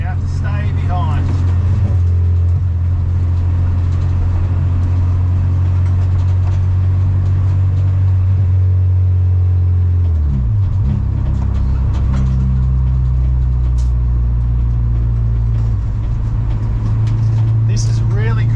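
A loud, low engine of an Acura TSX (CL9) race car drones steadily close by during an endurance race, dropping in pitch midway then settling, with a voice talking over it throughout.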